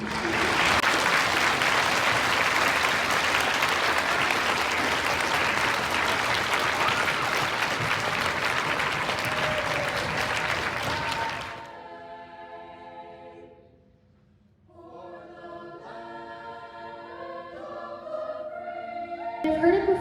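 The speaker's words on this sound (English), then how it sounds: "give us a round of applause to your parents" Children at a Veterans Day school assembly break into loud, sustained applause that fills the hall for several seconds, then fades out and gives way to music.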